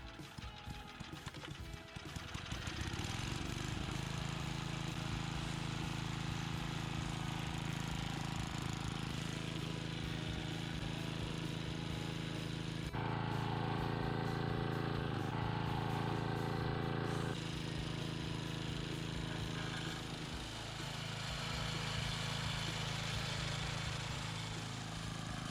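A Craftsman edger with a rebuilt carburetor sputters to life and settles into a steady, loud small-engine drone, the pitch rising and falling slightly as it runs for about twenty seconds.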